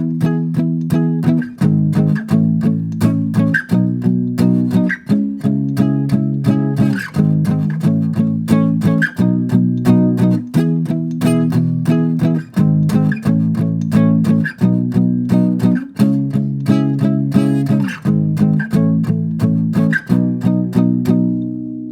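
An acoustic-sounding guitar strums a chord progression in a steady rhythmic pattern, close and alone with no talk.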